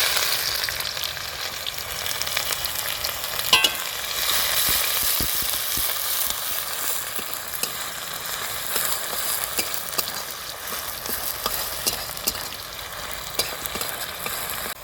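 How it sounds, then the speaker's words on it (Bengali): Chopped onion hits hot oil spiced with dried chilli and five-spice seeds for a fish curry, giving a steady, close, even sizzle with faint scrapes of stirring and one brief clink, throughout the stretch with no voices. "এবার দিচ্ছি পেঁয়াজ কুচি।"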